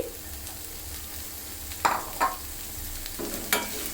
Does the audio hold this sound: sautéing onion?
yes